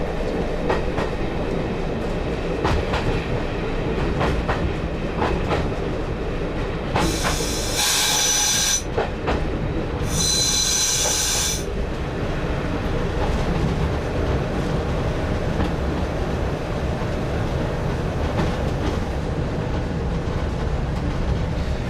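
A heritage train on the East Lancashire Railway rounds a curve and approaches Irwell Vale station, with a steady loud rumble and rail clatter throughout and two bright bursts of hiss partway through.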